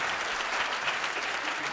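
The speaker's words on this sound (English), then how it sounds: "You were not supposed to applaud" An audience applauds, a dense continuous clapping that fills the room at steady loudness throughout.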